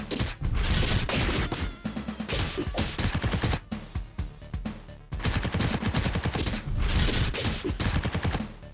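Rapid, dense gunfire from the Vengeance Hunters video game, loud and continuous bursts with crashing impacts, a brief pause midway, and no talk.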